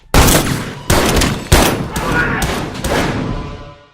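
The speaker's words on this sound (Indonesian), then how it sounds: "para polisi ini kembali harus tertembak peluru dari pistol milik Mang Dadang." Pistol gunshots in a film fight scene as police are shot: several loud, sharp reports in quick succession, each followed by a long booming echo that slowly fades away.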